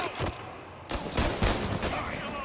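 Gunfire in Mafia: Definitive Edition sounds as a burst of sharp, loud shots, close together, with brief gaps between volleys.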